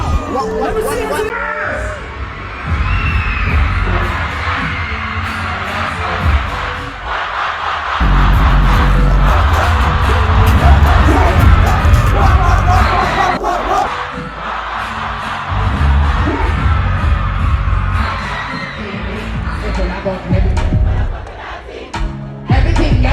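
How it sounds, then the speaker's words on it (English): A large crowd at the Wireless Festival in the UK roars, cheers and shouts continuously, loud and dense, with whoops and yells rising out of the noisy hubbub. "Make some noise for Skilly."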